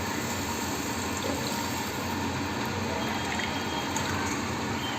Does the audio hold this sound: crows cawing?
no